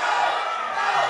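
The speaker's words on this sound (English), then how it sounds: "It's tough to hear this ruckus XWA crowd." A lively crowd at an XWA wrestling event keeps up a steady, dense roar of cheering and chatter that fills the whole moment without a break.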